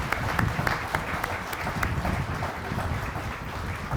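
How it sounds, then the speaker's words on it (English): A crowd claps at an outdoor community foundation Founder's Day picnic, a continuous spread of many hands with sharper individual claps standing out, moderately distant and steady without talk. "So give yourselves a round of applause."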